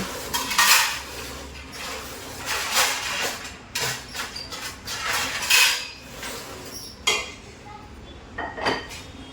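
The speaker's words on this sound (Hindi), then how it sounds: "साफ़ करने के बाद जो टोकरे में बर्तन पड़े हुए थे, मतलब रखे हुए थे, वो लगाने लगी हूँ" Washed dishes, pots and utensils are stacked into a kitchen basket at home, giving a close run of repeated clinks, clatters and metallic knocks with no talking.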